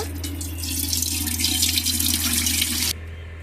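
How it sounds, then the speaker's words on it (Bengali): Water pours steadily into a cooking pot on a lit stove, a close, continuous splashing stream that stops abruptly after about three seconds. "হাঁড়ির মধ্যে পরিমাণ মতো পানি দিয়ে দেব"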